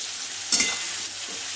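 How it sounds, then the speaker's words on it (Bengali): Koi and bhetki fish frying in hot oil in a pan while being stirred for a spicy kasha dish, with a steady soft sizzle broken by a few brief louder bursts of stirring. "একসাথে তেলে দেবো, দিয়ে নাড়াচাড়া করে নেবো ভালো করে"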